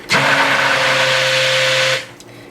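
A stick blender whirs steadily while mixing soap batter toward trace, a loud constant motor hum with a high whine that runs for about two seconds and then cuts off.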